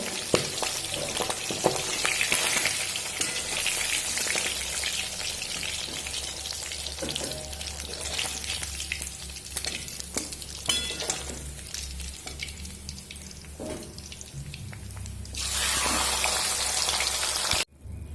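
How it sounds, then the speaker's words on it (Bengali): Bhetki fish bones frying in hot oil, a strong crackling sizzle that eases toward the middle and swells again near the end, close and without talk. "আর বাকি কাটাগুলো একইভাবে ভেজে নেব"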